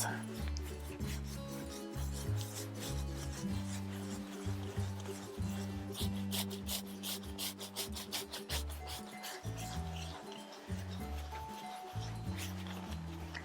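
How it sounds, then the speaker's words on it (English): A grey horse's coat is scrubbed hard with a shower puff, making a continuous rough, rhythmic rubbing and brushing close by, with faint ambient noise underneath and no talk. "give them a really good scrub rather than just sort of patting on the surface"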